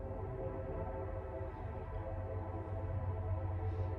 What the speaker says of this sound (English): can hear the train.